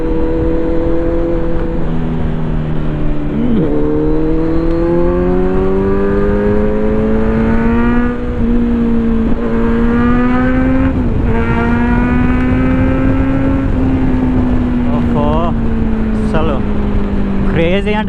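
Kawasaki Z900 motorcycle with an Akrapovic full-system exhaust revving hard under full throttle, its engine note climbing in repeated surges and shifts, loud and close, with a rider talking over it.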